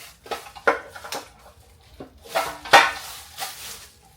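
Metal square baking pans, about 8 inches across, lifted out of storage with a handful of sharp clanks and scrapes spread over a few seconds, close by and with no one talking.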